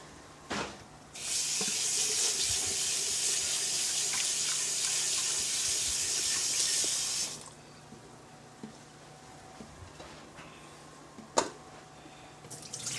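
A kitchen tap gushes steadily for several seconds, with water splashing over food in a sink, then shuts off, leaving a few faint clinks.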